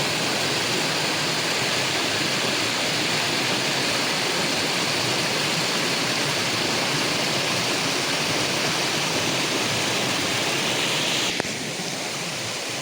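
Tatiguda waterfall roaring in a steady, dense wash of falling water, loud and close, unbroken for the whole stretch with no voices over it.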